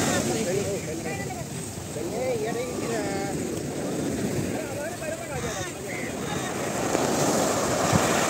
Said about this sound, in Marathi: माझ्या पाठीमागे आहे हा अरब समुद्र